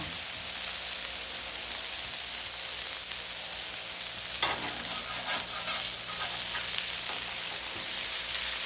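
Smash burgers sizzle on a Blackstone griddle in a steady, dense, crackling fry, with a brief burst of scraping and spatula movement near the middle.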